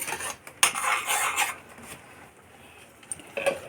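A spoon stirs a chili-spiced curry in a pan, giving a run of close metallic scrapes and clinks that thin out into quieter scattered taps, with no one talking.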